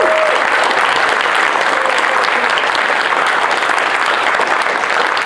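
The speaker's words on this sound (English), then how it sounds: "I want you to give them a huge round of applause right now" An audience at a motivational speaking event applauds the event staff, a loud, steady, dense roar of clapping that holds evenly from start to finish with no gaps.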